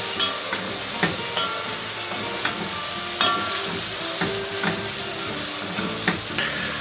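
Garlic fries in a pan for a Corsican-style pizza, a bright, steady sizzle close up with frequent light taps and clinks of a utensil against the pan, and no talk.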